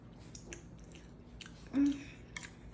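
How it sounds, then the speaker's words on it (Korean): Rice coated in ketchup is chewed with soft, moist mouth sounds, a few quiet bites over low background noise with one louder squishy moment partway through; no talking. "오늘 여기 케첩이 묻은 이 밥을 한번 먹어보도록 하겠습니다."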